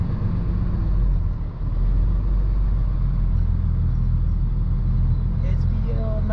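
Amazon Relay box truck on the road, a loud continuous low engine and road rumble heard from inside the cab, steady throughout with voices talking over it.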